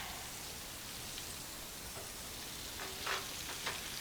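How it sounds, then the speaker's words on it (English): Leftover steak dropped into a hot pan with onions, giving a steady, dense sizzle and hiss throughout, with a few brief louder crackles near the end. "Now it's time to get this leftover steak going on inside of there."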